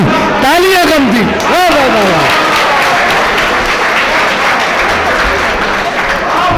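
Audience applause rises at a poetry recital, loud and continuous, with a reciting voice and harmonic calls or cheers near the start layered over the clapping.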